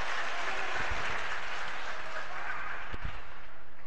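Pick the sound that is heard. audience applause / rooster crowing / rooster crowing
audience applause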